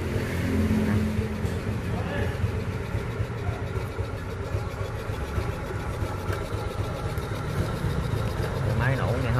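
Suzuki motorbike engine running close by with a steady, mid-pitched idling chug, while people talk over it.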